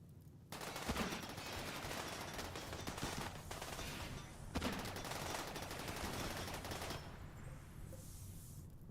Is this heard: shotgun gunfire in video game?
yes